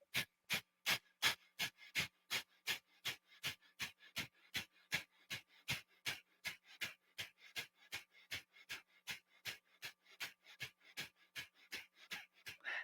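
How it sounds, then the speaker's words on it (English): Short, rapid exhales through the nose in a yoga breathing exercise, a long, even train of sharp puffs at roughly two per second, close and clear with no talking. "And then I'm going to make short exhales."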